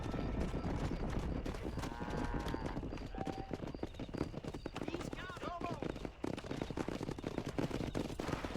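Cows are herded down a road on horseback in the Red Dead Redemption video game, with steady hoof clip-clops, occasional animal calls and game sound effects under continuous voices talking.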